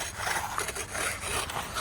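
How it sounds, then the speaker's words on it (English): Workers scraping freshly finished concrete, a short burst of coarse rhythmic rasping strokes, close and fairly loud, with a steady low rumble beneath. "Boys are scraping."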